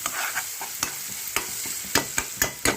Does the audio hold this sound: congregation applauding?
no